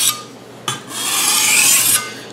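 A Chinese vegetable cleaver scrapes across a 600 grit whetstone in three rasping strokes, the last one long and sustained, close and clear with no voices.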